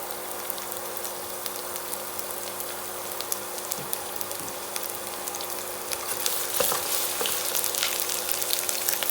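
White onions sizzle and fry in a pan as the start of a pepper sauce, a steady soft crackle with scattered pops that grows a little louder toward the end.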